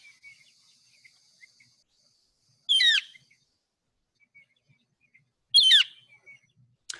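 Two sharp, high calls from a Gilded Flicker, a desert woodpecker, spaced a few seconds apart and clear against near silence, with faint chirps between.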